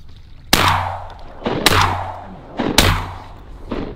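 Three loud, close shotgun blasts while duck hunting, evenly spaced about a second apart, each ringing out and fading before the next.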